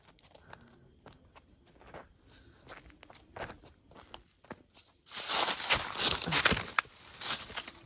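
Footsteps walking downhill through dry wood and leaf litter in a forest near a mountaintop, scattered crunching steps at first, then a dense burst of louder crackling and snapping close by.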